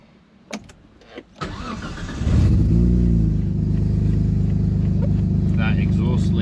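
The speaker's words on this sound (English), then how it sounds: "That exhaust leak is horrible." After a few clicks and clunks, a car engine with an exhaust leak cranks, catches and settles into a loud, rough, close rumble that holds steady.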